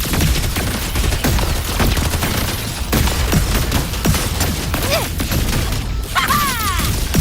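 Wuthering Waves combat erupts with dense rapid gunfire and grenade blasts, loud and continuous, shots rattling in quick bursts with crashes layered on top.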